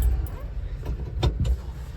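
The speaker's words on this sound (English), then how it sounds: "So it idles very nicely." Honda Acty mini truck engine idling: a steady low rumble close by, broken by a few light clicks and knocks.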